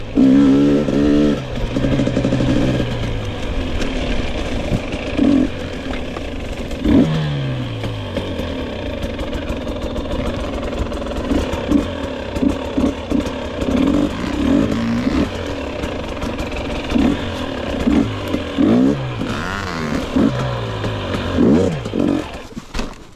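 A 2022 Gas Gas EX 250 dirt bike ridden on a dairy farm trail, its loud engine close by throughout, revving up and down repeatedly with blips of throttle and gear changes.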